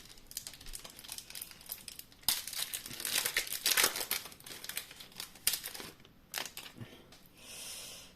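A Yu-Gi-Oh booster pack is torn open, with sharp foil crinkling and crackling bursts in irregular handfuls, close to the microphone, followed by a brief rustle and quieter handling, no talk.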